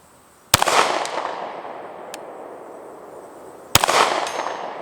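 A Canik TP9 Elite SC pistol fires 147 grain rounds, two sharp loud shots about three seconds apart, each with a brief ringing decay outdoors.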